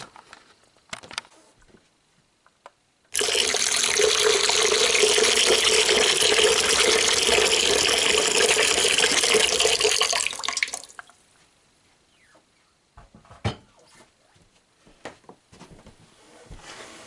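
Tap water gushing steadily into a sink for about seven seconds while handspun knitted wool socks are washed, loud and close, with soft handling clicks and splashes before and after.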